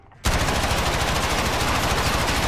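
An MP5 submachine gun in Modern Warfare Beta fires one continuous rapid automatic burst after a brief quiet start, loud and close with an even rattling rhythm.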